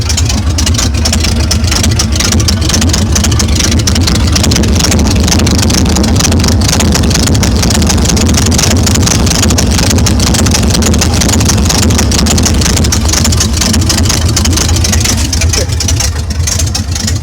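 A car engine with a throaty, souped-up tone runs steadily and loudly up close, a continuous rough rumble with a rattly edge and no change in pace.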